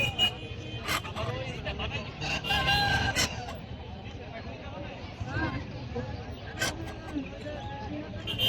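Silkie chickens cluck and call amid a busy village poultry market bustle in winter, with people talking nearby and occasional sharp bird cries cutting through.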